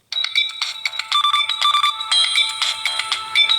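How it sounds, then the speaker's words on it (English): A Samsung Galaxy Gear 2 smartwatch plays its melodic electronic ringtone, a bright run of quick chiming tones that repeat steadily and clearly, close up with no voices over it. "Y'all remember this ringtone on the Galaxy Gear?"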